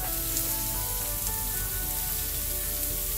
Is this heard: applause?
no